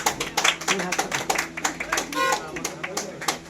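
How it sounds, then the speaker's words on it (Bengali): A group of people clap their hands at a showroom gathering in quick, uneven bursts, close by, with voices talking over the clapping. "তবে হাততালি দাও"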